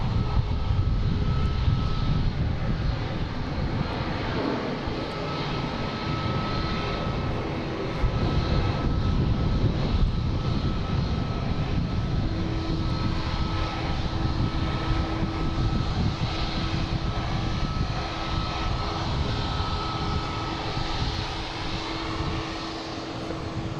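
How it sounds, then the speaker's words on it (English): An Alaska Airlines airliner coming in to land at Boston Logan International Airport, a loud, continuous roaring rumble with a faint whine, heard alone and steady throughout. "we have Alaska Airlines coming in the alley here, making all the racket"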